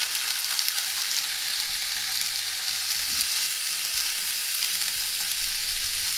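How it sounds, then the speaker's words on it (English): Pieces of salmon sizzle in a frying pan, left untouched, producing a loud, even hiss that holds steady throughout without pauses. "Put these gorgeous pieces of salmon in the pan and don't do anything."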